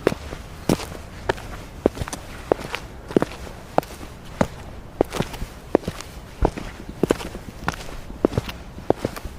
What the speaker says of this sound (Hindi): वो गार से बाहर निकल आई और चलने लगी।